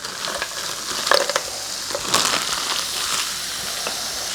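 Frozen spinach sizzles and crackles steadily in a hot pan as its water cooks off, with occasional scraping and stirring sounds close by.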